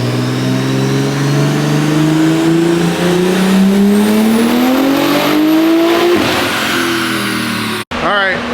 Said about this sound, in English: This car keeps spinning all 4 tires on a dyno.